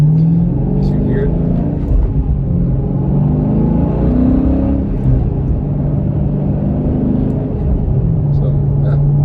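A deep, rumbling 2020 Dodge Challenger Scat Pack engine with mid-muffler delete pulls hard and accelerates with a loud exhaust note, steady and close, while someone talks over it.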